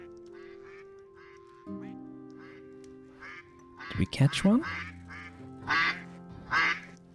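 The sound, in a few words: ducks quacking in video game Stonehearth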